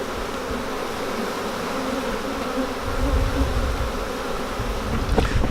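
Honey bees swarm around four hives set on a pallet, a dense continuous buzz with a rougher, louder low hum rising partway through, no talking.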